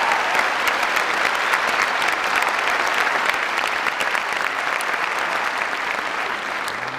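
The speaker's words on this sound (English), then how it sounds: "we have to give them another hand clap" Sustained audience applause at a plenary session of the World Council of Churches 10th Assembly, dense steady clapping from a large crowd holding at an even level throughout without speech.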